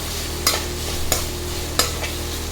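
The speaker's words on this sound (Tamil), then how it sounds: "இப்போ நல்லா வதக்கணும்." Onions sauté in a pan for a Rajasthani-style cabbage curry, a steady sizzle broken by three sharp scraping stirs of a spatula against the pan, close and without voices.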